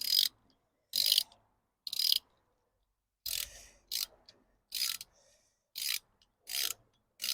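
A socket ratchet works a spark plug loose on a BMW M54 engine, giving about ten short, sharp clicking bursts in an uneven rhythm with brief silences between them, close and fairly quiet.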